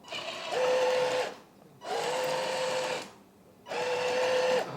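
A small electric track motor on a 1/14 scale MTM EC380 hydraulic RC excavator whirs in three short bursts separated by brief pauses, each run rising to a steady whine.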